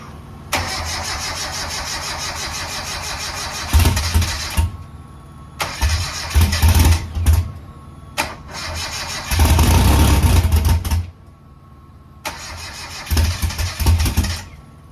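A 1000HP car engine cranks in several long bursts, stopping and starting again, then fires and catches with loud, rough roars between the pauses.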